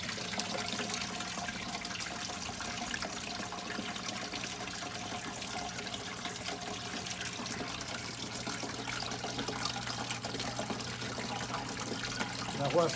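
Water drains through a hydroponics bell siphon with a continuous gurgling trickle and rushing flow at steady, moderate loudness throughout.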